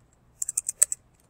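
Six quick, crisp keystrokes on a computer keyboard, close and clear over near silence, with a brief gap before the last two taps.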